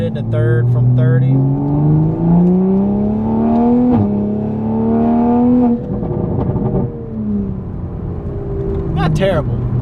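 A Toyota Supra with an Armytrix downpipe and Magnaflow exhaust pulls hard in third gear from 30 mph. Its engine note climbs in pitch in rising sweeps, loud and from inside the car, while someone talks over it.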